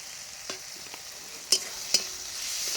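Spices like ground cumin paste, mustard paste, coriander, turmeric and chilli powder stirred in a frying pan for spinach ghonto, with a few sharp scraping clicks over a faint steady sizzle.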